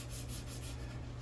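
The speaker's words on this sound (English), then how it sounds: "Just this gentle sanding motion to get the exact shape that you want." Steady back-and-forth rubbing of sandpaper on a wooden bass guitar neck by hand, a soft rhythmic scratchy rasp close by with no talking.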